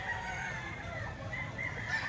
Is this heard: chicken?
yes